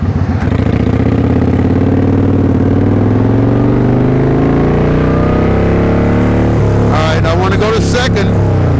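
Motorcycle engine revving up through first gear while accelerating, the pitch climbing steadily, then dropping as the clutch is pulled and a shift is made before it pulls again; close and loud, with a voice talking over it.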